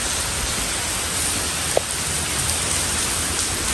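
Rain pouring steadily outdoors, a dense even hiss of drops hitting surfaces nearby, with one brief sharp tap standing out and no voices.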